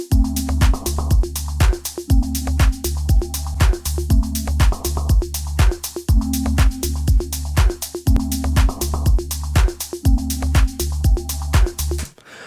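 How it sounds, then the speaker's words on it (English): An organic deep house loop drives along with a pounding four-on-the-floor kick, percussion and short synth plucks landing on the downbeats, repeating loud and steady with no talking. "It adds such an amount of depth just adding a couple plucks on those downbeats"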